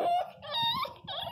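A miniature pinscher guarding its food lets out a tense, high whimpering whine mixed with low growling, close up and fairly quiet, rising and breaking in short strained bursts.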